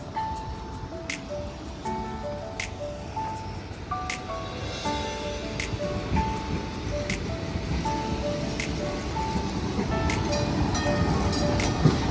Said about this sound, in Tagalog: cable train